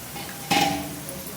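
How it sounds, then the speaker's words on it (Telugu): Boiled goat tripe is dropped into a hot pan for a spicy Telugu-style curry, giving one brief clatter and sizzle burst that fades into a low frying hiss, with no talking. "ఇప్పుడు దీనిలోకి ఇలా బోటీ వేసేసుకోవాలి"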